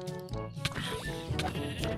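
Sheep in the Minecraft modpack Hexxit give short bleating calls, a few quick bleats close up amid game sounds and clicks.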